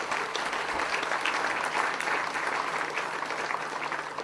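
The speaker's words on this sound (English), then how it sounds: "So please, a big round of applause for Rob O'Callaghan." Steady applause from a sizable audience at an open source awards ceremony, a dense patter of clapping that holds at an even level throughout without voices breaking through.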